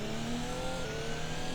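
Race car engine in the iRacing sim racing game at Road Atlanta during a final lap, a steady loud drone with shifting engine tones, no talk.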